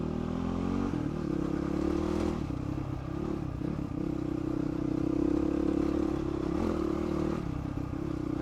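A motorcycle rides a rough bush track in the Paluma Range, its engine droning steadily close by while the rider shifts between first and second gear, with clattering and scraping over uneven ground.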